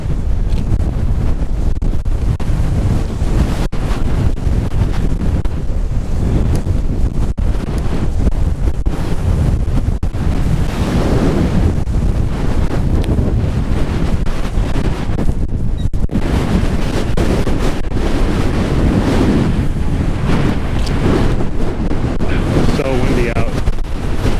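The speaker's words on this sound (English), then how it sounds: "It's so windy I can't even roll down this hill." Strong wind buffets the microphone in a constant loud rumbling roar, with gusts swelling and dropping throughout.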